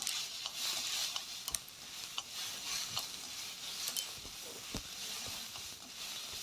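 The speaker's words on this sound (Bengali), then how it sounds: "এবারে একটু নেড়ে নেব।" Rice being stirred and lightly fried in a little oil in a pot for payesh, with a soft, quiet sizzle under repeated scraping and clicking strokes of a spoon against the pot.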